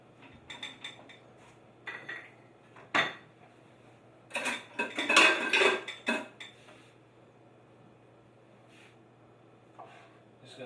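A kitchen knife cuts raspberries in half for a whipped-cream-topped dessert, giving a few soft clicks and taps against a board and dish, with a busier cluster of clinks in the middle and quiet pauses between.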